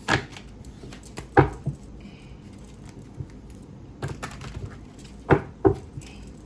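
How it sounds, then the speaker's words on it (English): Soft riffling tarot card shuffles come in a few short bursts, with quiet pauses and faint handling noise between them. "Shuffle my cards."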